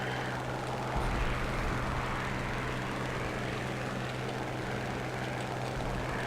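Stuka dive bomber in War Thunder, a steady droning aircraft piston engine with propeller hum, constant and fairly close with no talk over it.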